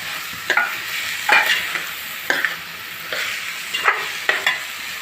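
Drumstick pods with ginger garlic paste and masala paste sizzle in a hot pan for a prawn and egg curry, with a steady frying hiss broken by several sharp stirring scrapes, close and clear.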